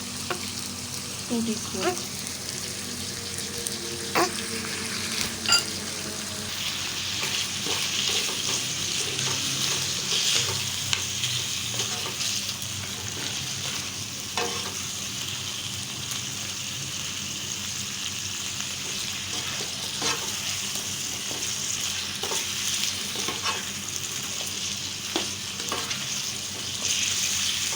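Chicken sizzling steadily in a pan with tikka powder, a continuous close frying hiss with occasional stirring scrapes and brief speech.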